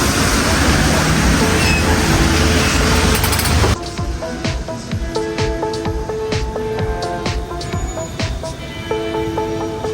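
Riding a tram in Izmir: a loud, dense rumble of rolling wheels for the first few seconds, then a quieter interior hum with faint tonal whines and rattles.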